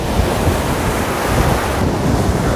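Stormy sea at Anapa with heavy surf crashing close by and strong wind buffeting the microphone, a loud, continuous roar of waves and gusts with no voices.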